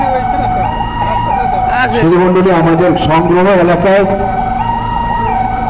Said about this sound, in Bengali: মাউন্ট অ্যাডোরা হসপিটাল থেকে একটি আইসিইউ অ্যাম্বুলেন্স চলে এসছে